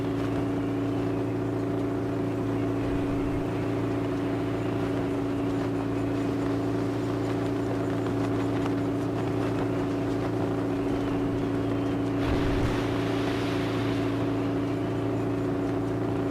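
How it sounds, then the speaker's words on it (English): Steady drone of a boat's engine running in the sailing game eSail, a constant low rumble with a slight swell near the end, alone without voices. "we'll turn the engine back off and get back to the sailing"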